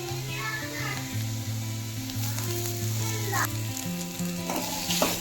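Potatoes frying in a pan with onion, turmeric and salt while being stirred: a steady close sizzle with occasional scraping stirs, over a sustained droning tonal background.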